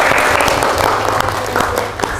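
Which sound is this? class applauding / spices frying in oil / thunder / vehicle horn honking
class applauding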